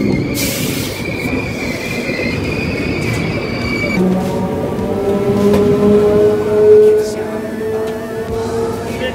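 A steady, loud rail rumble from the 12988 Ajmer Sealdah Express fills an onboard coach, with sustained high-pitched wheel squeals rising and swelling partway through.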